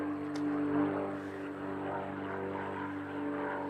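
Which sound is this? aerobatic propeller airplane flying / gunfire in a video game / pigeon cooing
aerobatic propeller airplane flying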